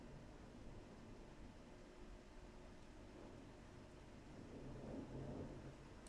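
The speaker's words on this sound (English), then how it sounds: "Can you hear that? That was a thunder." Thunder rolls in the distance as a low, faint, continuous rumble under steady broad noise, swelling slightly toward the end, with no talking.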